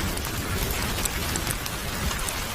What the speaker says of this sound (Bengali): বাইরে কি ভীষণ বৃষ্টি হচ্ছে।